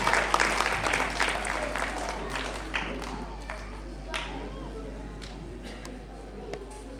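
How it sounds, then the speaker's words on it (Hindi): An audience at a Babasaheb Bhimrao Ambedkar Jayanti gathering claps together, a dense burst of applause that starts loud and thins out over several seconds. "सभी ताली बजाएंगे।"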